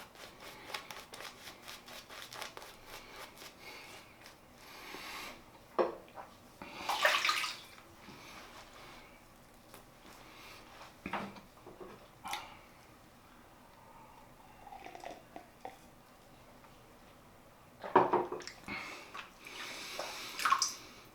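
Water runs and splashes into a basin during wet shaving in intermittent bursts, with quieter trickling and dripping between the louder pours.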